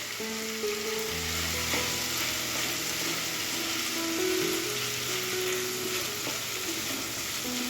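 Chicken fries in a pan over a low gas flame, sending up a continuous close sizzle with light crackling and a faint steady hum beneath it, and no voices.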